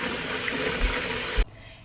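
Hot water poured into jars while canning homemade applesauce in a home kitchen, a steady close splashing rush that cuts off abruptly near the end.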